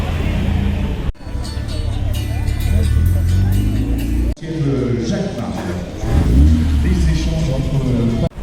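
Classic Citroën DS cars and ordinary traffic drive through a quiet Savoyard village, with engines revving and passing close by under steady talk and loud background music.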